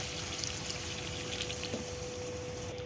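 Water is poured into a pot of curry made with local river fish, giving a steady, soft, close pouring and trickling sound that lasts throughout with no talk.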